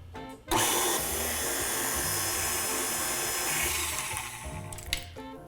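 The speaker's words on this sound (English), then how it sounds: "let's go ahead and lock our mixer and put this on a slow speed" A stand mixer on its slowest stir setting blends dry cupcake ingredients in a locked mixing bowl, a steady close whirring motor drone that starts abruptly and runs continuously, fading slightly near the end with a few clicks.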